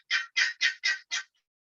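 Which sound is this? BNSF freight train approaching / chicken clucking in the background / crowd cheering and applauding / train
chicken clucking in the background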